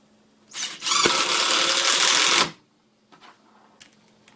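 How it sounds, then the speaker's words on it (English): A Hitachi 10.8V lithium impact driver (WH10DL) drives a screw into a solid 2x6, a loud, close, buzzing whir lasting about two seconds, then stopping, followed by faint clicks and handling noises. "This thing will drive it right through the wood too."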